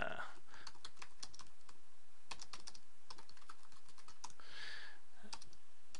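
Typing on a computer keyboard while writing Delphi code, quick irregular bursts of key clicks close to the microphone, with faint background noise and no speech.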